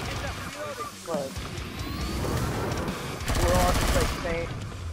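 Rapid gunfire from Killing Floor 2 rattles in dense bursts beneath steady talking voices, loud and continuous, with a heavier stretch of firing near the end.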